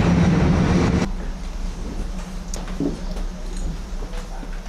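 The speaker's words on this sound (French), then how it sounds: "le train se présente sur le quai numéro 1" A train pulls in at a station platform, with a loud rumbling rush at first that drops to a steady lower roar and a few faint clinks and squeals, close by.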